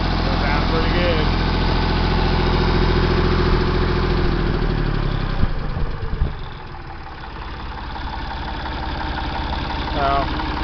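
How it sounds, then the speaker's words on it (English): Ford 335 industrial tractor diesel engine revving up to maximum RPM, a loud steady roar with harmonic drone that drops after about six seconds to a lower, rougher idle-like rumble. "Go ahead and bring it up. Max RPM. That sounds pretty good."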